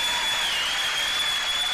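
Political rally crowd in Savannah applauding, a steady wash of many clapping hands mixed with crowd noise, loud and even throughout, with a faint high steady tone running above it.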